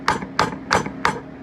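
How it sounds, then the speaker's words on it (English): A slag hammer strikes quarter-inch steel welds four times in a steady rhythm, each a sharp, ringing metallic clank heard close and loud, with no talking. "Just beat it to hell with the hammer, slag hammer."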